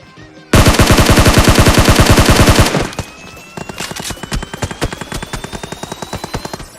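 A dense automatic burst of gunfire from a PUBG-style video game roars for about two seconds, then gives way to a quicker, lighter run of single shots over a rising whine. Loud and close, with no talk.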